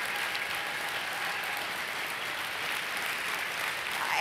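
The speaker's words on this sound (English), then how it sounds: "I want to give you all a round of an applause" A large crowd at a conservative political summit gives a steady, dense round of applause, a continuous wash of many hands clapping that holds level and swells slightly at the close.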